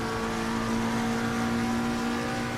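McLaren race car in a racing video game, its engine holding a steady, loud drone with sustained harmonic tones along a straight, continuous throughout with no talk.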